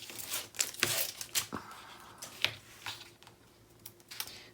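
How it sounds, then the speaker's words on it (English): Tape peels off album base paper in short, close ripping and crinkling bursts with faint taps and ticks between them, and no talk. "I can get my tape off and I'm going to lay it down"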